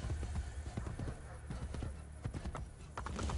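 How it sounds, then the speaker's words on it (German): Horse hooves clip-clop at a steady trot in Assassin's Creed Brotherhood, a continuous rhythmic patter under game ambience with faint talk. "Oh, Heimer, du bist so ein geiles Pferd."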